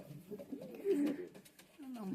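A newly paired couple of homing pigeons coo softly nearby, giving low, throaty, rolling calls that come in a few short swells against faint background noise.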